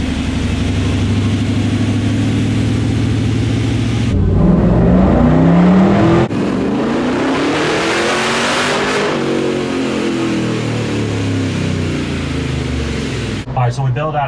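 Supercharged Chevy LS3 V8 in a C10 Stepside truck on a dyno run, loud and close, the engine revving hard through rising and falling pitch sweeps, with a brief lull before it roars up again and cuts off near the end.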